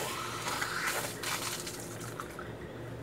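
Water gushes from a kitchen tap into a balloon fitted over the faucet, a soft, steady rushing and filling sound, faint and close, with no talking.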